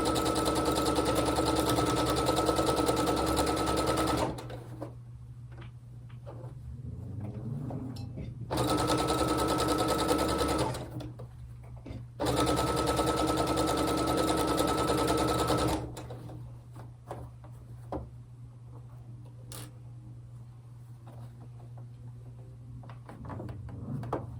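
A sewing machine stitches quilt seams in three steady, fast-whirring runs of several seconds each, separated by pauses filled with quieter handling clicks and rustles, close and clear.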